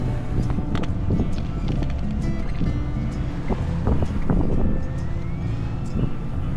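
Wind and water noise aboard a sailboat motor-sailing up the bay in about 14 knots of wind, a steady broadband rush with low engine rumble beneath and occasional creaks and splashes, loud and close throughout.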